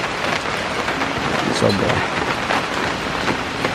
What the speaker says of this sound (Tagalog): ang lakas ng ulan, sobrang lakas talaga